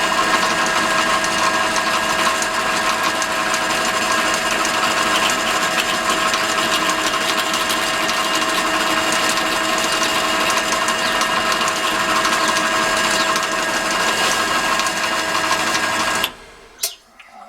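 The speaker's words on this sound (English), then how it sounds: "hopefully get these holes drilled" A drill bores holes through a clamped wooden mortise cylinder, a loud continuous whirring mechanical drone held for about sixteen seconds before cutting off abruptly, followed by a few quiet knocks.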